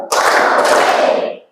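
A primary-school class claps together in a tepuk rhythmic clapping exercise during an ice-breaking warm-up. It is a short, loud burst of many hands clapping at once, close by in the classroom.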